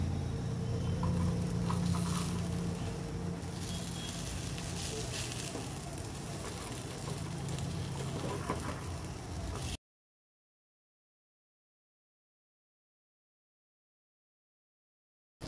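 Green moong appe sizzle and crackle in an appe pan as they are flipped, a steady frying hiss lasting several seconds before cutting to silence.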